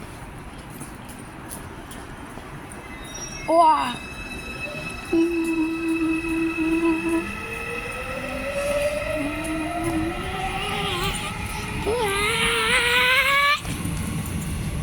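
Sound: subway train arriving at station

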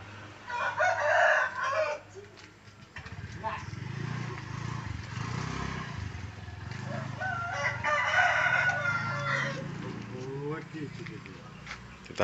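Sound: hen crowing

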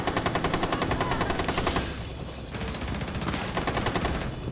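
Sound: gunfire in the video game Rainbow Six Siege

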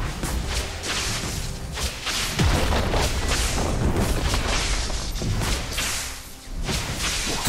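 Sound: turret being destroyed in League of Legends video game

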